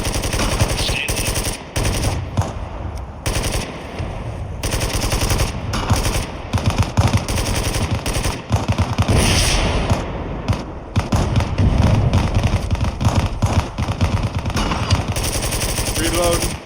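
Sustained gunfire in the military shooter Bellum: dense machine-gun bursts and rapid shots roll on almost without pause at a loud, steady level, with a few brief gaps and some speech mixed in underneath.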